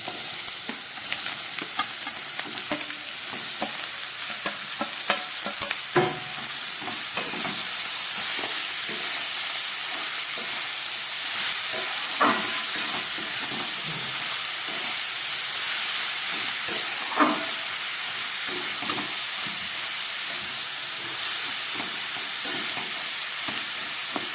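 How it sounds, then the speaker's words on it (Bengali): Snake gourd fries in a pan with coconut and poppy seed paste, a steady sizzle broken by repeated scrapes of the spoon as it is stirred, close and loud, with no talking. "চিচিঙ্গাগুলোকে প্রায় দু মিনিটের মতো ভেজে নিলাম"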